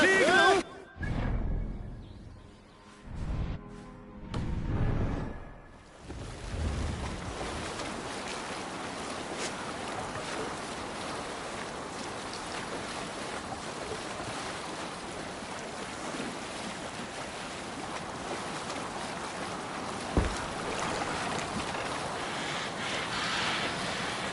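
Longship sailing on open sea in the Assassin's Creed Valhalla video game: a few loud shouts and thumps open it, then a steady, close rush of wind and waves runs on unbroken.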